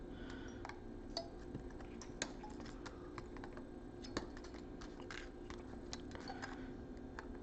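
Flush cutters snipping the component legs on a DSO138mini oscilloscope kit PCB, sharp small clicks scattered at irregular intervals over a steady faint hum, close and quiet with no talking.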